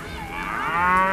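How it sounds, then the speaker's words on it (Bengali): A cow lowing in a village cowshed at night, one drawn-out moo that rises and swells, close and clear with no other sounds around it. "গেরস্ত বাড়ির গোয়ালগুলিতে গরুগুলি এমনভাবে হামলাচ্ছে যে মনে হয় অশুভ কোনো ইঙ্গিত পেয়েছে।"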